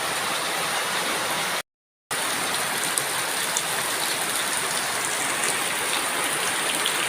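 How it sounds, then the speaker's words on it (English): Steady afternoon rain in the Philippine countryside at Cansilyan patters and hisses continuously, a dense even wash of drops with a brief silent gap near the start. "So, rainy afternoon."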